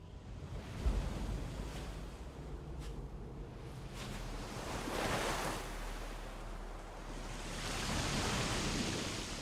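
Ocean waves in Death Stranding, a steady wash of surf that swells and recedes with a low, continuous roar and some wind, with no one speaking.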